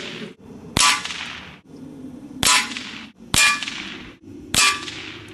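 A Gamo Hunter 440 air rifle fires orange stinger pellets, four sharp, loud cracks with metallic ringing spaced roughly every second, each followed by a short decay over a low background hum.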